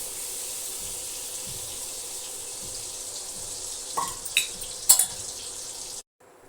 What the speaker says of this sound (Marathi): कढईमध्ये मी थोडं हे बटर घालते आहे आणि त्याच्यासोबतच तेल पण घालायचे